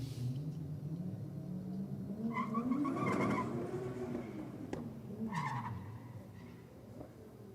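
Drag racing cars leave the line spinning their tyres, a Honda among them, producing a rising engine roar with screeching tyre squeal that swells and fades over several seconds at a moderate distance.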